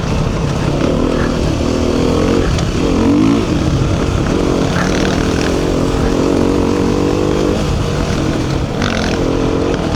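A Honda CRF 450 dirt bike with a Vortex ECU and Honda power parts rides a trail, its engine buzzing steadily and loud throughout with shifting pitch as it revs and climbs.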